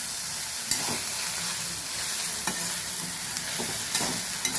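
Prawns fry with okra in a pan, giving a steady close sizzle. A utensil stirs them now and then with a few sharp scrapes and clinks, and no one speaks.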